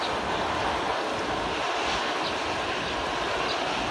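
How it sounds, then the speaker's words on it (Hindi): Heavy rainwater rushes and pours steadily into a village well after a strong downpour, a continuous dense wash of noise with no voices. "कुएँ में जा रहा है देखो पानी अभी भी"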